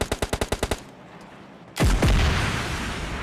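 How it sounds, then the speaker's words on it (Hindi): An RPG rocket launcher fires in PUBG Lite with a sudden loud boom and a rumbling blast that tails off, just after a quick rapid burst of about eight gunshots. "पर इन्हें आरपीजी का स्वाद चखाते हैं"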